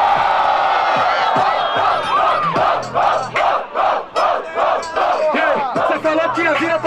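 Crowd at a rap battle cheering and shouting in loud rhythmic bursts, a dense roar of many voices chanting together in repeated beats throughout.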